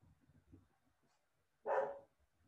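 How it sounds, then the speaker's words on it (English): Dog barking somewhere off in the distance during a lecture, a single short bark heard faintly after some quiet background talk. "I don't know who's barking over."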